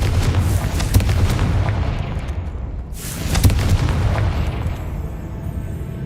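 Confringo blasting spell going off in a Hogwarts video game: heavy booming explosions with deep rumble, a big blast near the start and another swelling burst midway, loud and continuous with crackling debris.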